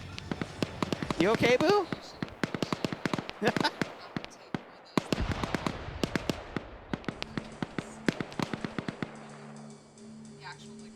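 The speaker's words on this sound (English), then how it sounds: "And now here comes the BTR firing." A BTR armored vehicle opens fire in a tactical shooter match: rapid sharp gunshot bursts crack repeatedly at close-to-mid distance, with a person talking over the shooting.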